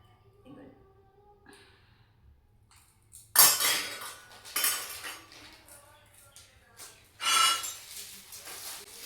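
Brass spoons handled and dropped together, a few bright metallic clinks and rattles in separate bursts, close and fairly loud, with quieter rustling and faint voices between them.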